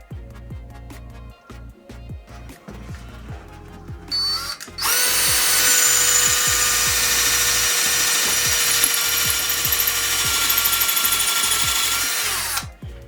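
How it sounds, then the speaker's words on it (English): A power drill runs loudly and continuously for several seconds as it bores a hole for a wall plug in an 1812 farmhouse wall, following a stretch of quieter background sound. "Drilled the hole, put in a raw plug"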